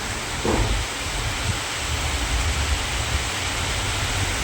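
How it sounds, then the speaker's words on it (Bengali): Steady rain falls outdoors in a dense, even hiss that fills the whole stretch, close and loud with no pauses and no voices. "তো তার মধ্যে শুরু হলো এরকম একটা বৃষ্টি"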